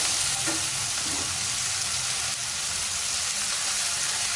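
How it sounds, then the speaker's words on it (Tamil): Onions and tomatoes sauté with a little salt in a pan for a Chettinad-style prawn curry, giving a steady, close, continuous sizzle throughout with no talking. "வதங்கும் போது கொஞ்சம் உப்பு போட்டுக்கலாம் வெங்காயம் தக்காளி சீக்கிரம் வதங்கிடும்"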